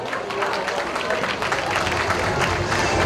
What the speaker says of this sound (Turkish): En güzel alkışlarınızla ödülü kendinize takdim ediyorum.